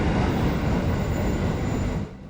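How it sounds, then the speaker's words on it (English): A Jakarta commuter train rumbles loudly and steadily through a station at close range, a dense roar of wheels and carriages that fades slightly as it clears. "The Jakarta commuter trains, like this one, pass through frequently"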